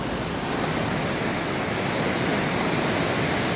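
A waterfall roars in a steady, dense broadband rush, loud and unbroken throughout, with no voices over it.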